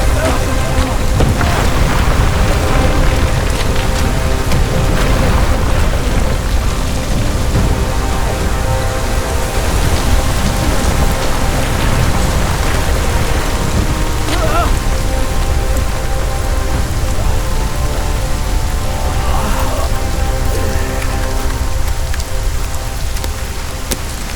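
Hail pounding down during a disaster scene in a Christian drama film, a dense, loud, unbroken hiss and clatter of ice striking surfaces with low rumbling underneath, holding steady throughout.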